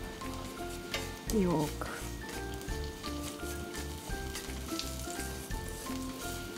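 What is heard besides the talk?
garlic and coriander frying slowly in oil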